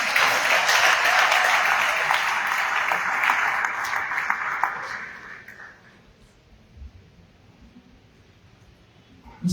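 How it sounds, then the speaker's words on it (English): A hall audience claps at a university inaugural lecture, with steady, fairly loud applause for about five seconds before it fades to quiet room tone, followed by a few faint knocks. "I can't hear the woman clapping for this great woman."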